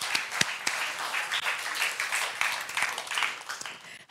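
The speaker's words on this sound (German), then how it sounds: "Ein Applaus für euch." Audience applause at a youth hackathon project presentation on stage, steady dense clapping from a crowd lasting several seconds with a few sharper individual claps standing out.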